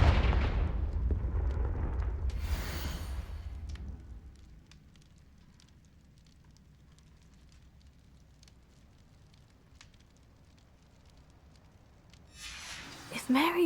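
A Confringo blast spell cast in Hogwarts Legacy erupts as a loud, crackling fiery burst that dies away after a few seconds into quiet ambience, followed by a brief rise of sound and a voice near the end.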